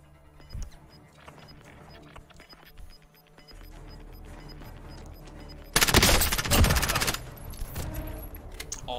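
Gunfire in a trios match of a battle-royale video game: scattered shots and clicks early, then a loud dense burst of rapid automatic fire lasting about a second, followed by continued game noise.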